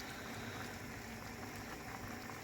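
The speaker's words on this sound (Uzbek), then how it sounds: "murabbomiz juda ham chiroyli bo'lib mana qaynayapti" Quince jam bubbles and simmers in a pot in a kitchen, a faint, continuous soft gurgling fizz with no speech.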